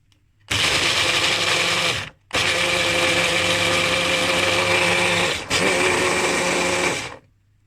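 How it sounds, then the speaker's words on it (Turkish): A food processor whirs loudly through fruit yoghurt with crumbled shortcake biscuit, running in three bursts separated by brief pauses, a strong steady motor whine with no talking. "Şimdi robotumuzu alalım ve çekmeye başlayalım."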